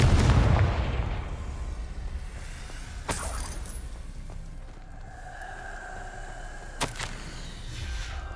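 A Confringo spell fires in the Hogwarts Legacy video game, a loud burst at the start that fades into a rumbling tail, with sharp blasts around three and seven seconds over a steady game ambience.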